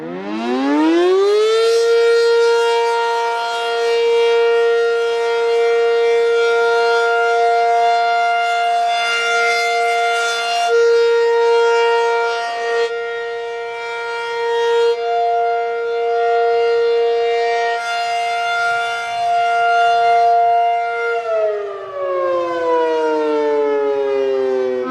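A civil defense siren sounds during a test in Calhan, a loud, sustained wail that holds steady for about twenty seconds before winding down in pitch near the end, with no talk over it.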